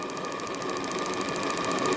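Model steam engine with Stephenson valve gear, built for model boats, running steadily: a fast, even mechanical chatter with a rapid repeating tick, close and continuous, with no voices.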